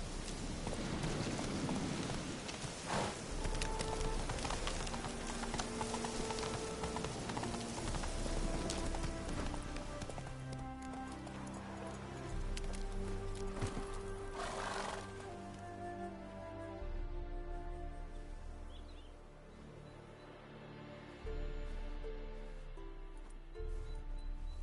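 Hooves clip-clop steadily as a horse gallops in a PS4 video game, continuing through the stretch amid busy game music and effects, with rain-like patter in the background.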